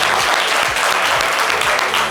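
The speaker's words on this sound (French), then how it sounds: "Applaudissez pour elle, s'il vous plaît." A studio audience claps loudly and steadily for a woman on a French live variety show, dense close applause filling the whole moment without a break.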